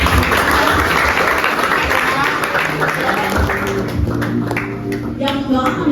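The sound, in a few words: audience applause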